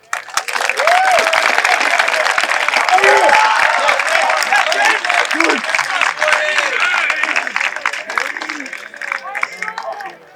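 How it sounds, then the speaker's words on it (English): A round of applause from the audience at a senior field day school assembly, loud sustained clapping with some cheering that swells quickly, holds for several seconds and then tapers off. "I'd like you all to give yourself a round of applause for that."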